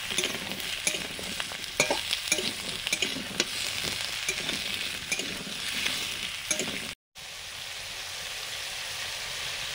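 Ridge gourd and potatoes frying in a pan, a dense crackling sizzle with repeated spatula scrapes and stirs, up close, then a brief cut before a calmer steady sizzle, no one speaking.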